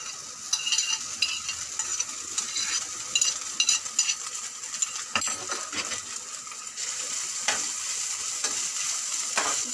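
Fish frying in sunflower oil in a pan, a continuous close sizzle broken by scattered scraping and tapping strokes of a spatula, with a few sharper clinks.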